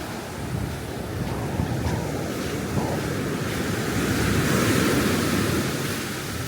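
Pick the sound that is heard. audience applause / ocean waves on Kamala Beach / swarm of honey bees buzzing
ocean waves on Kamala Beach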